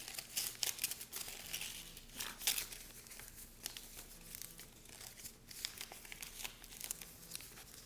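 A paper hexa-hexa-flexagon is folded and flexed up close, giving continuous soft crinkling and rustling with sharper crackles at intervals and no talking.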